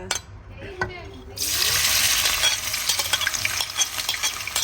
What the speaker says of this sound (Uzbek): Mana yog'imiz qizidi. Mana endi piyoz solamiz.